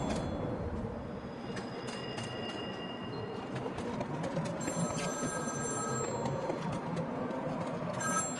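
A telephone rings in Batman: Arkham City, with repeated bright tones and short pauses over a steady, busy game ambience. No one speaks.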